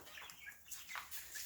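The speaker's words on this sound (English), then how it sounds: "Got a chick fight going on." Baby chicks in a backyard coop squabble and chirp, a faint, busy scatter of high peeps and scuffles at a distance with no talking.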